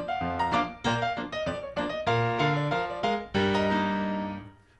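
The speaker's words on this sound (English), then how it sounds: "when I'm playing a ragtime piece, the notes need to sound like this" Ragtime chords on piano played without the sustain pedal, each chord struck crisply and cut short, giving a detached, bouncing rhythm of clear separate attacks with no talking.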